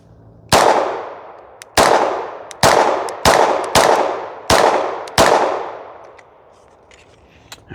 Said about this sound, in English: first thing we're going to be shooting is the Glock Gen 5